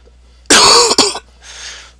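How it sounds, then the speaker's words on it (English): A single harsh, close cough with a sharp second burst, followed by a softer breathy exhale, in an otherwise quiet room. "Sorry about the cough"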